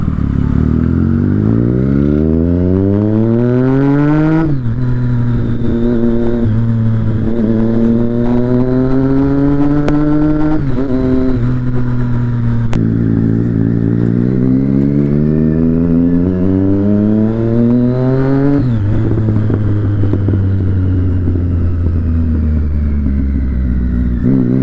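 A superbike engine drones loudly and steadily while riding on the road from Pune toward Nagpur, rising in pitch through repeated revs and gear changes with a continuous close roar.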